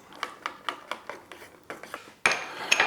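Kohlrabi rémoulade dressing with cider vinegar mixed in a bowl, a quick series of about ten rhythmic scraping utensil strokes, then a louder clattering stir at the end.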